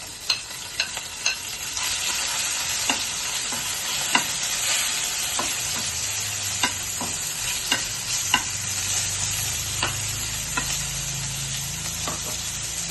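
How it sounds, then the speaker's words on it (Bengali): Raw chicken pieces frying in hot oil in a pan, a steady bright sizzle running throughout with occasional sharp pops and stirring clicks, and a low hum underneath. "চিকেনের জন্য ওটা ভেজে নেবো একটুখানি। চিকেনটা প্রথমে দিয়ে দিচ্ছি।"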